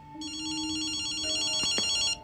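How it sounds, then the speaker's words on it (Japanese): A telephone rings in the video game Ghostwire: Tokyo, a bright electronic trill sounding once in a sustained burst before cutting off, clear over a faint hum. "電話だぜ。"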